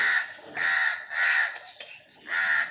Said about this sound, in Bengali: মানে এই কাকটা ডাকছে ওই যে বসে বসে